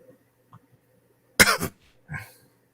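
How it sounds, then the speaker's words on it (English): A single sharp cough, followed a moment later by a softer throat-clearing sound, in an otherwise quiet room. "Well, somebody got a cough."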